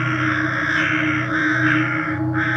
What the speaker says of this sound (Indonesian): Burung gagak bersahutan dari dahan pohon mati.